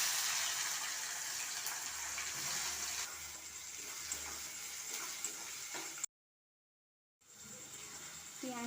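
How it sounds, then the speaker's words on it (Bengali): Chopped onion frying in a pan with bay leaf, dried chilli and whole garam masala for a red mutton and potato curry, a steady close sizzling hiss that stops for a moment and then resumes. "পেঁয়াজটা আমি এরপরে ভালোভাবে ভেজে নেব লাল লাল করে"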